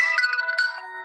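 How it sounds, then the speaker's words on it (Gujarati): A mobile phone ringtone plays on its own for about a second, a bright, steady electronic melody of repeating tones, fairly close and clear with no voices over it. "ફોન આવી ગયો, મોબાઈલ ફોન."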